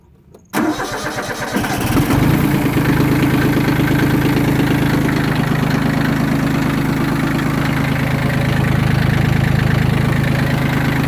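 A used Yanmar F14D compact tractor's diesel engine cranks and catches, then settles into a loud, steady close-up idle with no voices.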